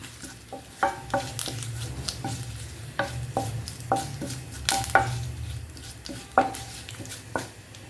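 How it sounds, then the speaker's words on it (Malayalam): Cooked tomatoes are mashed in a hot pan with curry leaves, a steady low simmering sizzle beneath irregular sharp clinks and scrapes of a utensil against the pan, close and moderately loud. "തക്കാളിയുടെ തോലൊക്കെ എടുത്തതിന് ശേഷം നമുക്ക് ഉടച്ചെടുക്കാം"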